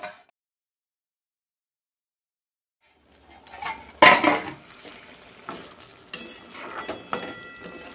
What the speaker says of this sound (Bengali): এখন ঢাকনাটা সরিয়ে দেখি।